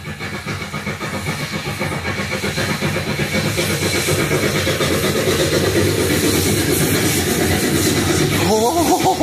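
A preserved steam locomotive from a 1974 LP recording chuffs loudly, its rhythmic exhaust beats quickening and growing steadily louder as it builds speed, with a whistle-like tone at the end.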